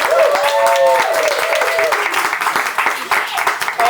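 Audience applause at a New York poetry event, a steady wash of clapping from a crowd throughout, with voices and cheering tones rising over it early on.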